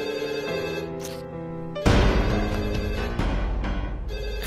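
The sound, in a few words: house telephone ringing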